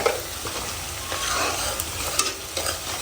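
Spices with onion, chili, garlic and ginger paste stirred in hot mustard oil, making a continuous close sizzle with quick scraping stirs and a few sharp clinks of a utensil.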